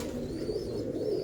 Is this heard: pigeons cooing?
yes